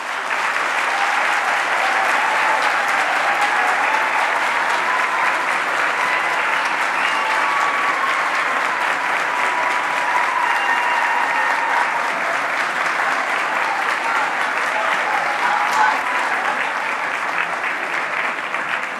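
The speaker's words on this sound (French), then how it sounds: "Je vous demande donc d'applaudir chaleureusement M." At a graduation ceremony in Longueuil, a large audience warmly applauds an honorary award recipient, a long, steady, even roar of clapping from a big hall with no break.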